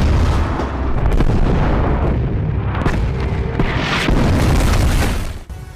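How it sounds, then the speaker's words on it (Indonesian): Artillery fires in a World War II film about Soviet soldiers facing a German assault. Heavy booming blasts merge into a loud, continuous rumble with sharp cracks, and the roar fades toward the end. "artileri pun ditembakkan"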